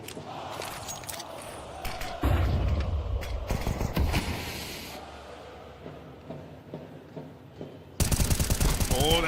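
Pistol-round gunfire in a Counter-Strike 2 match, Na'Vi against Spirit: loud, rapid bursts of cracking shots mixed with clattering footsteps and game effects, with a sudden dense barrage near the end.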